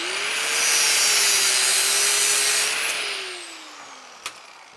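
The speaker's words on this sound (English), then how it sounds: "flip it over and cut the other side right to that opening in the hinge" Power tool cutting a metal baffle for an MGB oil pan, a steady high whine that rises, holds, then winds down, ending with a brief sharp click.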